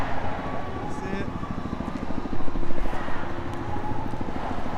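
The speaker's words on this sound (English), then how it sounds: "Got a helicopter overhead now." Police or news helicopter flying overhead during a street protest march in Orlando, a continuous loud rotor thrum with rapid rhythmic blade chop, steady throughout with crowd ambience around it.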